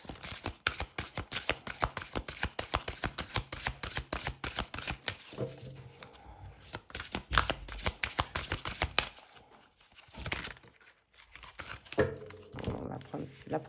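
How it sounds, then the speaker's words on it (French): A deck of oracle cards is shuffled by hand, producing rapid, crisp riffling flutters in quick bursts, close and fairly quiet, with short pauses between rounds. "je vais mélanger les cartes"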